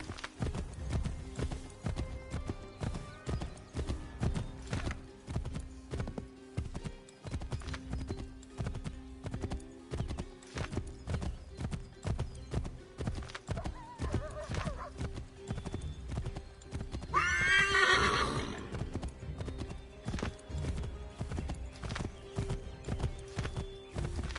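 Steady rhythmic clip-clop of horse hooves during horseback riding in the video game Assassin's Creed III, close and continuous, with a brief horse whinny partway through.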